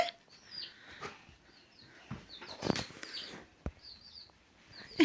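Faint, scattered high chirps from baby chicks, soft and intermittent over a quiet room with occasional light knocks.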